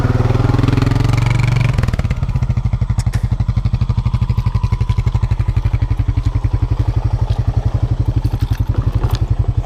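A four-wheeler ATV engine idles close by with a steady, rapid chugging pulse after a brief louder rumble at the start, running alone without talk.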